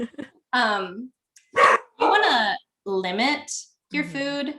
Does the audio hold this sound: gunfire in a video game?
no